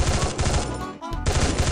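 Rapid automatic gunfire from the Free Fire video game rattles in a dense, loud burst, breaks off for a moment, then resumes just as fast.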